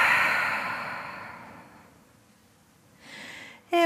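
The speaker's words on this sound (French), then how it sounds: "Et grande expiration par la bouche." A deep, slow exhalation through the mouth during a gentle yoga session, a long soft breathy rush that fades out, followed by a faint rustle.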